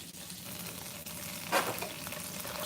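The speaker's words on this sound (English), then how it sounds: "I'm going to let the butter simmer all this down a little bit" Butter sizzles softly in a pan with an omelet, a quiet, even fry hiss with a brief louder flare of crackle midway.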